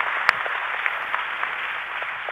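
Steady applause from an audience at a live medical case session, a dense even wash of clapping with a few sharper individual claps standing out, sustained at moderate level throughout.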